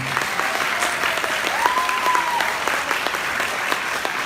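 A university crowd applauds the teachers steadily and warmly at a teaching-certificate graduation ceremony, dense clapping sustained throughout, with a faint tone briefly rising over it.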